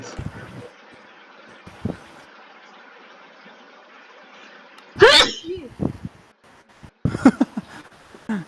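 A single loud, sharp sneeze bursts out close by in a quiet room, followed by people talking.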